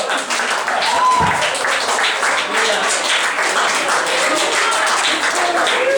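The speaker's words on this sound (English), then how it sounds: "Give her a round of applause." A comedy club audience in Gainesville breaks into applause for a comedian, with steady clapping and cheering that fills the room at constant loudness for several seconds.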